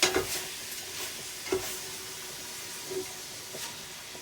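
Minced meat for a shepherd's or cottage pie sizzles as it dries out in a pan, with soft broadband hiss and a few light scraping stirs of a utensil, close and moderately quiet, no voices.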